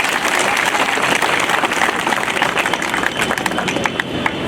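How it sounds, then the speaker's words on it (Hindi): A large crowd at a Muslim community sit-in protest over the Waqf bill at Shaheed Smarak in Jaipur claps loudly and continuously, a dense roar of hands with some outdoor background noise. "इनके लिए जोरदार ताली बजाओ आप सब"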